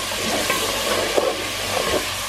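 Mint with black pepper and salt sizzles in a pan for Hyderabadi daliya, a steady close frying hiss broken by a few soft stirring scrapes, with no talking.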